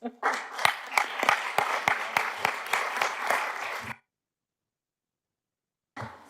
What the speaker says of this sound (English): I'd like to wish for another round of applause